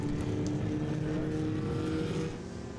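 A Formula Vee race car passes at Winton Raceway during a historic racing festival, its engine loud and close at first, then fading away as it heads off.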